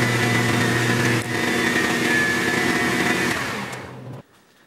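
Steel collet stop turning in a lathe while its threaded hole is chamfered: a steady loud motor whine with tonal hum throughout, a small shift near one second, then the machine winds down and cuts off near the end.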